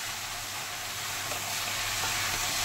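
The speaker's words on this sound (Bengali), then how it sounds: "এবার এর মধ্যে দিয়ে দেব লাউ। সব লাউ দিয়ে দিলাম" Bottle gourd fries in a pan with oil for lau chingri, giving a steady, dense sizzling hiss that holds constant and close throughout, with no talk.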